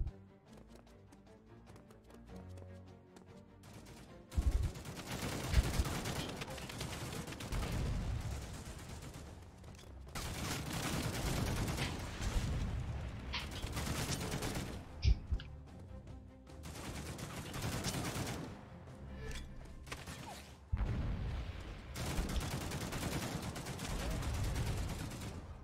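Bursts of gunfire in the toy-soldier shooter game The Mean Greens Plastic Warfare on Xbox One, sounding as repeated loud volleys separated by short quieter gaps over background game sound.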